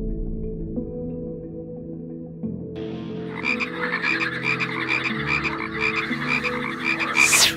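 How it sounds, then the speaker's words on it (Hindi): A large group of frogs croaks loudly together, dense rhythmic calls building into a thick chorus close by, with a low hum beneath at the start. "और शायद इतने सारे मेंढकों की कोई मीटिंग चल रही थी जो इस आदमी ने खराब कर दी है।"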